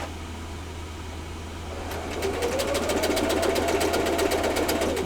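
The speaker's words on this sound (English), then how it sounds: "let's get this other side sewed on here" A sewing machine runs through a seam on a pineapple quilt block, its rapid, steady stitching rhythm starting about two seconds in after near silence and continuing loud and close to the end.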